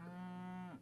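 A single drawn-out cow moo from the video game Super Auto Pets, loud and close, lasting almost a second with a slight dip at its end and no other sound.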